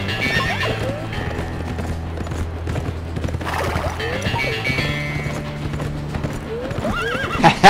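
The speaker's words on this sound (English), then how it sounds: "How do you make a horse stop?" A horse in the prison-escape video game The Escapists 2 gallops with steady clip-clop hoofbeats and lets out whinnying neighs, set over continuous game music and effects.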